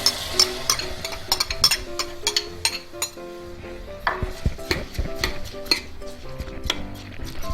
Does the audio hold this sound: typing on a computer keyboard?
no